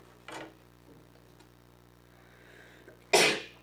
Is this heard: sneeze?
yes